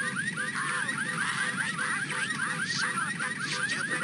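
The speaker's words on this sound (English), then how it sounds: "The car alarm is the worst one." A cartoon car alarm from Rocko's Modern Life wails in a rapid, repeating rising whoop, looping evenly at moderate loudness with no talk over it.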